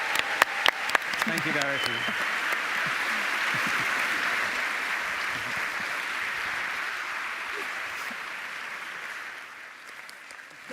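An audience at a Nobel Prize Dialogue panel event in Sydney breaks into a long round of applause after a few sharp opening claps, sustained and even before fading slightly at the end, with a brief spoken thanks over it.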